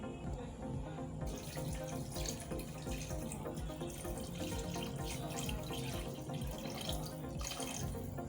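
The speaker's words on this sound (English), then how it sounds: "I would add the normal water I would use in making the soup" Water running from a tap into a pot for Achi soup, a steady close splashing pour that fills the whole stretch after a short quieter start.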